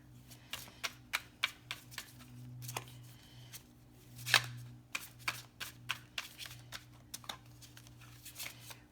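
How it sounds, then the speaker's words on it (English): Tarot cards shuffled and drawn during a reading, a quiet series of close, crisp card flicks and riffles in an irregular rhythm over a low background hum, no speech. "let's get some cards for the middle here"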